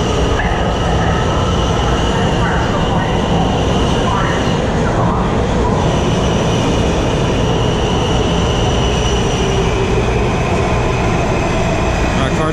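Washington Metro Red Line Alstom 6000 series train pulling into the Metro Center upper-level platform, a loud continuous rumble of wheels and motors with faint squeals, with some announcement-like voice mixed in.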